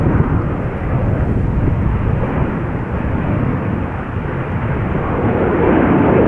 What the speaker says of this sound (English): A350 from Singapore Airlines on its way back to Singapore.